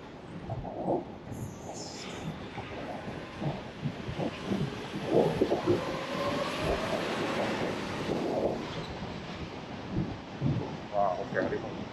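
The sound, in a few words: strong typhoon wind on a city street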